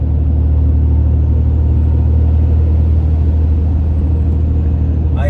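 A Cummins 6.7 diesel pickup fitted with an eBay aftermarket intake rumbles steadily from inside the cab, a loud, deep, continuous drone at cruising speed that holds even throughout.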